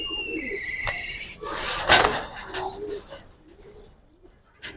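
Giribaz and other pigeons coo softly in low, throaty bursts, joined by a sharp bird chirp and some rustling and knocking sounds nearby.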